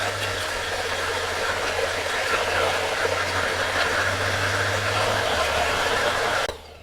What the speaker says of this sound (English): now I'm gonna go in with a blow dry and we're gonna blow dry upside down